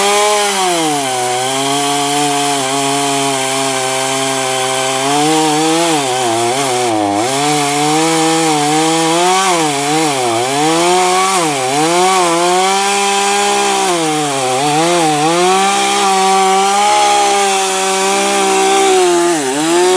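A Powerhorse chainsaw cuts through somewhat green oak, its engine snarling loud and close, pitch bending up and down steadily as the chain bites into the wood for the whole stretch.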